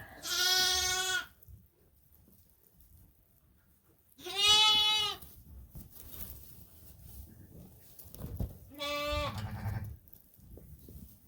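Suffolk triplet lambs bleating in a barn during lambing season, three loud, clear, high bleats spaced a few seconds apart, with quiet rustling and shuffling between calls.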